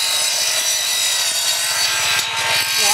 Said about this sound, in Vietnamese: Lực vô cưa thử coi.